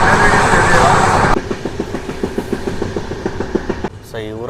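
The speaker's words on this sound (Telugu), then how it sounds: "మనకు వచ్చేసి ప్లాట్ఫామ్ 1కి వచ్చేసి మనకు దేవగిరి ఎక్స్ప్రెస్ అయితే వచ్చింది" The Devagiri Express pulls into platform 1 at a station with a loud rushing roar, then settles into a steady, rhythmic clatter of wheels over rail joints. A brief tonal sound rises near the end.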